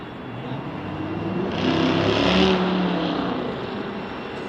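A KLM airliner passing during planespotting at Salt Lake City, a steady broad engine roar that swells to a peak midway and then eases off, heard at moderate distance with no talk over it.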